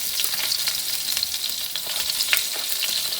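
Red chilies and asafoetida crackle and sizzle in hot oil, a steady bright frying hiss with small pops and spatters, close and loud, no voices.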